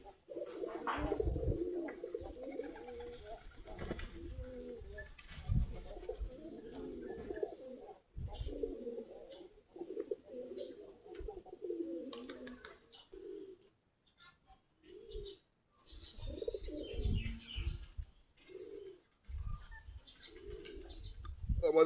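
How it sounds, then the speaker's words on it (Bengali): Flock of about 45 pairs of deshi giribaz pigeons cooing steadily in a loft, overlapping low throaty coos in a continuous chorus with brief pauses, fairly close and moderately loud. "আমাদের এখন প্রায় 45 জোড়ার মতো কবুতর আছে।"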